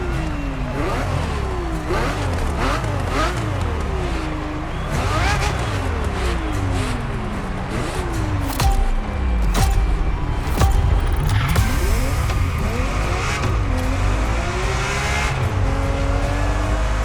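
A Ferrari F50 in The Crew Motorfest video game, its engine loud and close, repeatedly revving up and dropping through gear changes, with rising and falling pitch sweeps over a constant engine roar.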